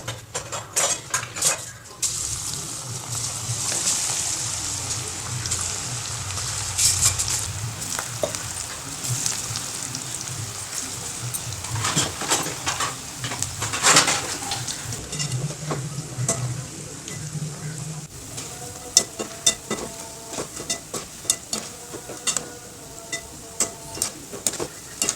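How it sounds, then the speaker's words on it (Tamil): Chana dal pakodas fry in hot oil with a continuous bubbling sizzle, joined by frequent metallic clinks and scrapes of a utensil against the pan, near and moderately loud, with no talking. "இப்போ எண்ணெயில் பொரிச்சு எடுக்கலாம்."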